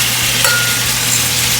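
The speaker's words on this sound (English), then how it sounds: "And then I'm just going to cook the beef on that" Lean beef frying in rendered pork fat, a dense, steady, loud sizzle close by with a faint clink near the start and no voice.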